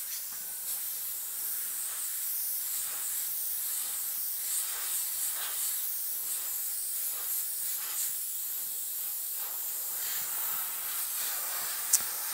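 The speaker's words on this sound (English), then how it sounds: "I'm going to aim the airbrush up toward this bottom edge" Airbrush spraying paint in light layers toward a masked bottom edge: a continuous soft, airy hiss, steady and close throughout with no pauses.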